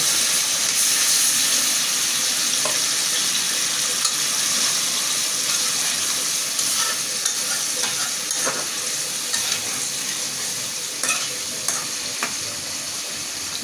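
Hilsa fish cooking in a pan hisses and sizzles steadily as water is added, with occasional light clicks and scrapes of a utensil, loud and continuous with no voices.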